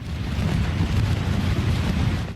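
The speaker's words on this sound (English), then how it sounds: "The waves are getting stronger. They're starting to crash right over the side." Wind-driven waves crash steadily against the Tampa Bay shoreline in a continuous loud roar of surf and water, with strong wind buffeting the microphone and no voices.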